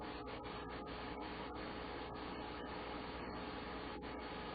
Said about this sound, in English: I always turn it a few times through the rolling process to make sure that it's all evenly rubbed and rolled.